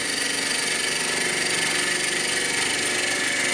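A wood lathe turns a wooden sword under a skew chisel, giving a steady, close, droning motor hum with an even whirring texture throughout and no voices.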